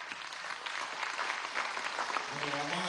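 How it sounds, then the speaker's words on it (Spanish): A seated audience at a presidential workshop claps in sustained applause that holds steady and close, with a voice speaking over it. "vamos a darle un aplauso nuevamente a mi comandante en jefe, Nicolás Maduro López."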